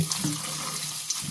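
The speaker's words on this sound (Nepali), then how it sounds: "अब हामी धारामा पानी हालेर यसरी चाहिँ पानीले पखालिरहेछौँ है।" Tap water runs steadily over food being rinsed in a kitchen, a continuous close wash with faint splashy variations and no talking.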